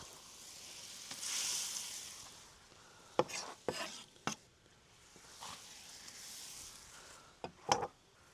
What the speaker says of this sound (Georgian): ერთი დიდი თავი პომიდორი მაქვს დაჭრილი და ჩავუშვებ.